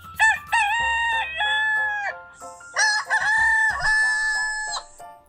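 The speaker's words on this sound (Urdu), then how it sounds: "یہ مرغا ہے" A rooster crows twice, loud and near, each crow a long, wavering call with a brief pause between them.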